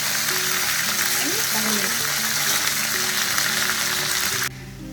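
Tadka of cumin, fenugreek seeds, dry chilies and curry leaves sizzling in hot oil, a steady close hiss and crackle that runs throughout under a voice and cuts off just before the end.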